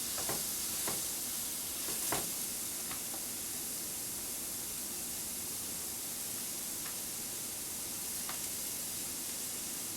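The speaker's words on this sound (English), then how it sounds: "we're going to put them on the hot griddle to cook them" Fresh ham patties sizzle on a hot griddle with a steady, even hiss of frying that runs unbroken throughout, broken only by a few faint ticks and pops early on.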